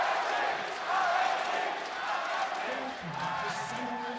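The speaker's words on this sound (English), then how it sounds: "A lot of cheers in the crowd for RNG" A crowd at an esports match in Chicago, a League of Legends quarterfinal with Royal Never Give Up against SK Telecom T1, cheers and roars in a large arena, a continuous wash of voices running throughout.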